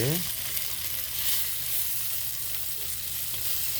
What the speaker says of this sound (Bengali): চিংড়ি মাছটা ভুনা ভুনা করা হচ্ছে আগে